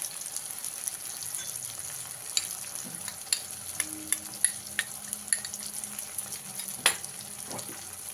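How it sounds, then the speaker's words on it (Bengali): Spice mix of turmeric, cumin, coriander and Kashmiri chilli powder sautéing in a pan for raw banana kofta curry, a soft steady sizzle with light periodic scrapes and taps of a spoon. "দিয়ে মশলাটাকে ভালো করে কষিয়ে নিই"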